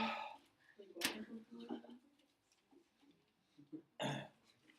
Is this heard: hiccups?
yes